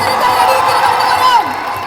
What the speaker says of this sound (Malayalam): വലിയൊരു കയ്യടി ഇവിടുന്ന് തരണം